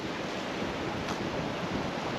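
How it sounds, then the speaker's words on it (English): Sea waves surge and break against a rocky shore at night at Beadnell during cod fishing, a steady, loud roar of surf and spray with wind noise across the microphone and no talking. "the waves coming up, just the backlash of it coming up and hitting us, spraying us"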